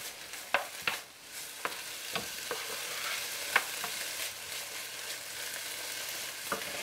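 Seasoned chicken pieces are stirred and heated in a pan: a steady low sizzle runs underneath while a spoon or spatula scrapes and clacks against the pan in scattered sharp knocks, close and moderately loud.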